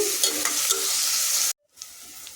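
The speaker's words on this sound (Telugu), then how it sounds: "ఇప్పుడు ఉల్లిపాయలు వేసేసుకున్నాము అలాగే పచ్చిమిరపకాయలు కూడా వేసుకుంటున్నాను ఇవి బాగా ఎర్రగా వేపుకోవాలండి" Onions and green chillies fry in hot oil with a loud, close, continuous sizzle and a few stirring scrapes, broken by a sudden brief silence before the sizzle resumes more quietly.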